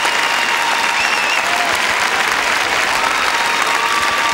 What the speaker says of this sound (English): Muted applause, but then you'd understand that.